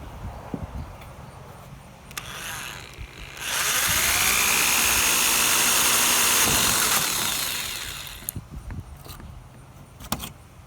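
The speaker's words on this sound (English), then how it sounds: "the only way to get them out is to drill them out" A power drill bores out pop rivets holding dzus fasteners on a fiberglass hood, whining steadily for about five seconds between quieter clicks and handling clatter, with no talking.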